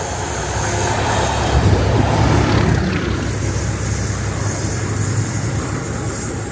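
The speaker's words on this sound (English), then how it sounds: "it's nice seeing that Class 37 Caroline passing through Berkhamsted" A Class 37 diesel locomotive named Caroline passes through Berkhamsted station on the West Coast Main Line, a loud, close, sustained engine roar and wheel rumble that swells, then holds steady.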